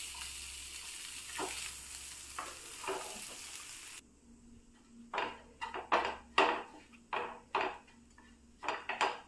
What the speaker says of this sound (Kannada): ಇದಕ್ಕೆ 4-5 ಎಸಳು ಬೆಳ್ಳುಳ್ಳಿ, 1/2 ಕಪ್ ಅಷ್ಟು ಕಾಯಿ ತುರಿಯನ್ನು ಹಾಕಿ ಫ್ರೈ ಮಾಡ್ತಿದ್ದೇನೆ